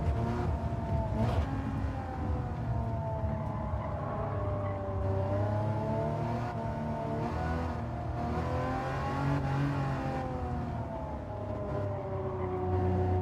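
A loud, high-pitched racing car engine in a GT7 or Forza Motorsport video game rises and falls as it revs, sustained and droning throughout with no talk.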